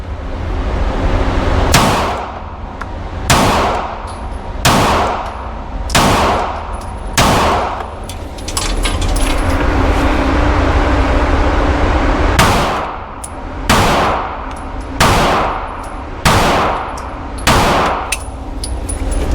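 A Canik MC9 Prime pistol fired at 5 yards: two strings of five loud, sharp shots, each string spaced about a second apart, with a pause between the strings and ringing clangs after some shots.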